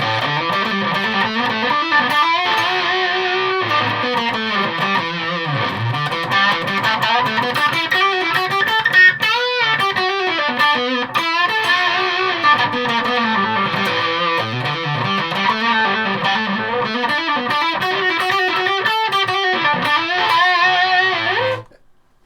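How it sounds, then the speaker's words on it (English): An electric guitar through a TC Rusty Fuzz pedal plays loud, sustained, buzzy lines with bending notes, continuous and upfront, then cuts off abruptly at the end. "it sounds a little bit like my dolamo fuzz, which is meant to be like a fuzz face"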